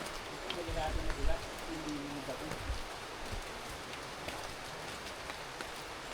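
Steady, dense heavy rain hissing and pattering across surfaces at a muddy mountain campsite on Mt. Romelo, with some low thumps and bumps beneath, continuous throughout.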